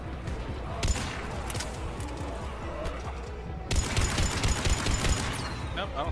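Sustained gunfire from the sci-fi shooter game Mass Effect 3 on Insanity difficulty, dense overlapping shots and bursts throughout, growing heavier midway, with voices talking over the combat.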